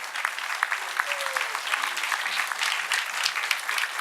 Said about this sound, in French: Vous pouvez vous applaudir?